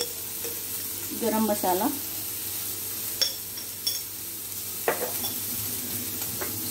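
A wheat-flour dough mixture roasting in a pan over a medium flame, with a soft continuous sizzle, a few light stirring scrapes and clinks, and a voice speaking briefly over it.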